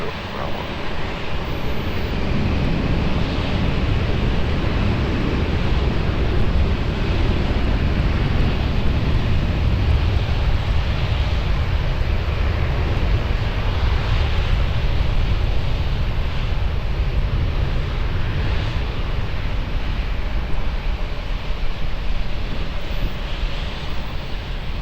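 A jet airliner, callsign Alpine 62 Bravo Fox, takes off from runway 20 at Lisbon Airport in a 17-knot wind. A loud, steady engine roar and rumble fills the whole stretch, with radio chatter mixed in.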